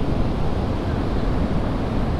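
Sea waves on a beach at Teknaf near Cox's Bazar, a broad continuous wash of surf mixed with wind rumble on the microphone, steady and fairly loud with no distinct individual breakers.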